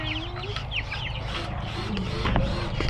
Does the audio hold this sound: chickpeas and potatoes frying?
no